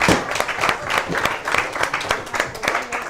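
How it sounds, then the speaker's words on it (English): At a game show, an audience gives the contestants a scattered round of applause, uneven claps rising and falling with some voices mixed in. "Let's give our contestants a round of applause here."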